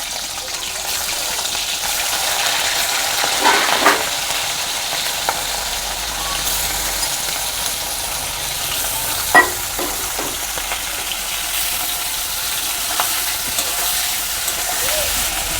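Salted, turmeric-rubbed prawns frying in oil in a pan for a malai curry, a steady loud sizzle throughout with occasional stirring clinks and sharper pops.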